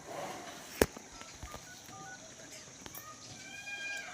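Phone keypad tones being dialed, a short run of beeps at a moderate pace in a quiet rural setting, with faint background noise and a sharp knock early on.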